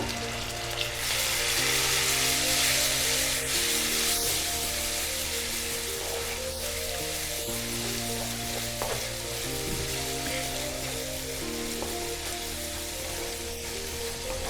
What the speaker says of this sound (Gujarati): થોડું પાણી નાખી હલાવશું